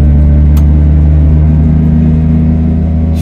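Small Piaggio Ape 50 three-wheeler engine droning steadily while driving through hilly country roads, a constant loud low-pitched hum with little change in pitch and no talk over it.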